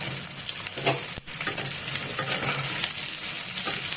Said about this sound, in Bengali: খুব তাড়াতাড়ি পেঁয়াজটা দিয়ে একটু ভালো করে নেড়ে নেব